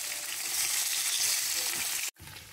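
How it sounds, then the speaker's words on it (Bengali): Several pieces of fish fry in a hot pan for a pre-dawn meal, making a dense, continuous close-up sizzle that cuts out briefly near the end. "ভোর রাত্রে খাওয়ার জন্য এখানে কয়েকটা মাছ ভেজে নিচ্ছি"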